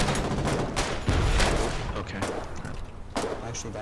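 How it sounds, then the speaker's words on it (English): Artillery shells slam down in the war game Foxhole, a dense barrage of booms and gunfire with a heavy impact near the middle and further blasts after, speech mixed in under the din. "an artillery shell hits me"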